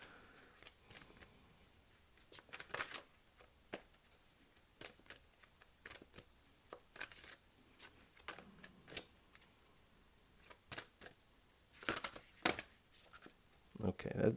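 Tarot cards shuffled and drawn from the deck, giving crisp, papery riffles and flicks in short irregular bursts, with quiet talking at times between them.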